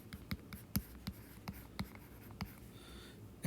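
Pen or chalk writing notes during a circular motion lecture, a series of short scratchy strokes spaced irregularly, fairly faint against a quiet room.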